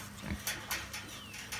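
A pig near a hiking trail grunts in short, soft, snuffling bursts, a few quiet grunts close by against faint outdoor background noise.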